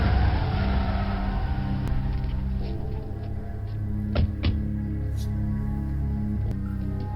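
A car engine runs steadily nearby with a deep, constant rumble and a few sharp clicks and knocks in the middle.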